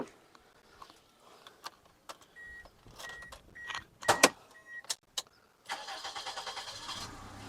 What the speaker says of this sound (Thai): แล้วฟังเสียงเครื่องยนต์กัน นะครับ